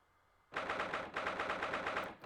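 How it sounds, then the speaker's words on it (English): Rapid repeated blasts, in Great Ace Attorney, from a cannon kept inside a house: a sudden loud volley of evenly spaced bangs starting after a quiet moment, close and without talk. "Why does this guy have a cannon in his house?"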